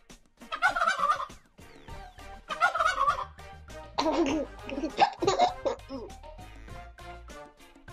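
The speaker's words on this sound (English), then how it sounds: "Turkey" A turkey gobbles in several loud, rapid rattling bursts, close by, with short gaps between calls and a busy mix of background noise.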